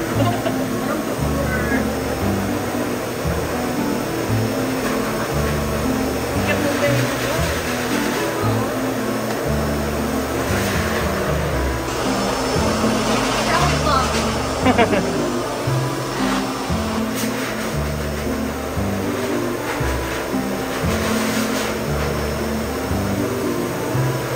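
A loud, continuous whooshing pet grooming blower dryer roars throughout during a dog's grooming, with voices talking over it.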